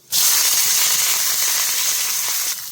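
Hot oil tempering sizzles loudly and steadily as curry leaves and green chilies go into a pan already holding cumin, dried red chilies and asafoetida, a bright continuous hiss lasting nearly three seconds.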